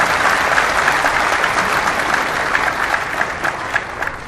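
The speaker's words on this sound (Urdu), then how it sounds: "یہ تو دکھ والی بات پہ تم نے تالیاں بجائی ہیں۔" Loud, dense audience applause during a religious speech in Urdu, a sustained wash of many hands clapping that thins slightly toward the end, with no voice over it.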